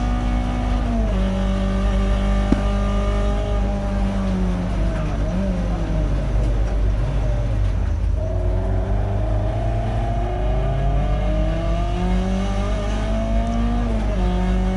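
A Peugeot 206 GTi 180 race car engine drones loudly at high revs on a circuit, pitch rising and falling with gear changes and throttle shifts, continuous and close.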